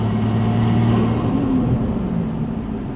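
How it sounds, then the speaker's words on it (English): A turbocharged engine in a 340 car, freshly rebuilt and being broken in, revs with a steady loud droning rumble and a rising whir, heard close and alone with no talk. "This turbo sounds insane on this car."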